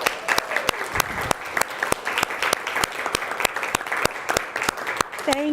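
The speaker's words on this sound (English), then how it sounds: "Please give them a round of applause." An audience at a university talk claps steadily, a dense crackle of many hands sustained throughout, loud and close with no voices over it.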